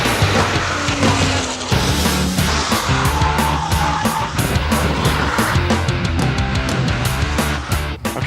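A Porsche 911 GT2 RS on sticky Michelin Cup track tyres laps a race circuit, its engine roaring steadily at close range with tire squeal and rhythmic shifts, without any talking.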